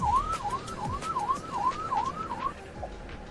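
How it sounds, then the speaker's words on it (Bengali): An ambulance siren wailing on a road, a rising and falling electronic whoop repeating about every half second, moderately distant, then cutting off, with traffic noise beneath. "Ambulance, emergency case."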